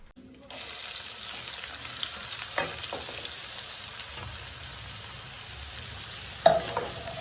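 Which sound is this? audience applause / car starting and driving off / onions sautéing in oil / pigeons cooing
onions sautéing in oil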